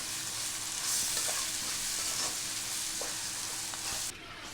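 Onion, green chilli, ginger, garlic and cumin sizzle steadily in hot oil for a chicken curry, with a spoon scraping and stirring through the pan at intervals; the frying hiss stays loud and close throughout, dropping slightly at the very end.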